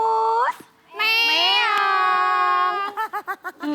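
A person imitates a cat, voicing a long drawn-out meow followed by a quick run of short meows, loud and close.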